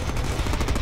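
Rapid gunfire from Summers' heavy gun in the Deadpool video game, a dense, continuous burst of loud shots that fills the short moment without a break.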